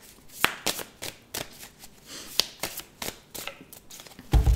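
Tarot cards are riffled and cut close by in a series of crisp, irregular slaps and flutters, soft shuffling between sharper snaps, ending with a louder thump.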